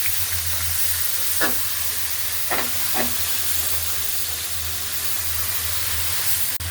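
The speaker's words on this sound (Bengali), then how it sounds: "এবার মশলাগুলো আমি একটু তেলে ভাজা দিয়ে নিই" Spice paste frying in hot oil hisses in a steady, close sizzle, broken by a few short clinks or scrapes of a spoon against the pan.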